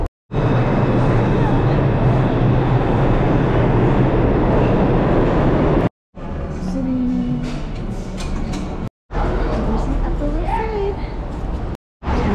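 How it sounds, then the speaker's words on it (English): A New York subway train rumbles loudly and closely, broken by abrupt cuts into quieter stretches of street ambience with voices speaking. "My Subway's right up there."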